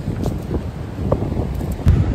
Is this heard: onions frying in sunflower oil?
no